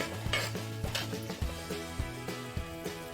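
Oats kichidi with vegetables boiling in a pot on the stove gives a steady bubbling sizzle, with a few soft clinks and stirring knocks over a faint tonal background.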